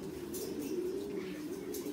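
A reddish-brown American Giant pigeon coos in a steady, low, throaty murmur that carries on without a break, with a couple of faint higher sounds in the background.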